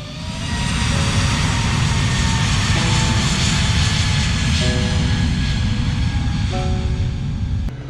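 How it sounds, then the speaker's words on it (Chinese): A Cadet aircraft takes off from a runway at Langkawi, Malaysia; its engine gives a loud, steady, close roar with a faint tonal whine that holds for the whole stretch, and no one talks. "在这里我们可以看到飞机起飞"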